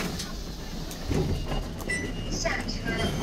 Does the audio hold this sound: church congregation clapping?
no